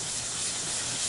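Dye and sandpaper being wiped off on a wooden workbench during sanding of Angelus leather dye on wildwood maple: a brief, continuous rough rubbing hiss, close and steady.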